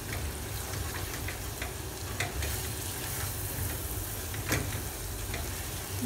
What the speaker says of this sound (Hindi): अच्छे से इसको भून लेना है और ये ध्यान रखिए कुकर में ही बनाना है।